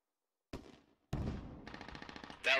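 Bursts of automatic gunfire from a machine gun in the military shooter game Squad, a short burst then a longer sustained rattle, loud and close with no talk.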